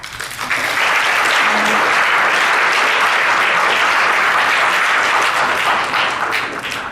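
Sustained audience applause at an event on antisemitism on college campuses, a dense, steady clapping from a large crowd that swells quickly and holds at full volume before easing slightly at the end.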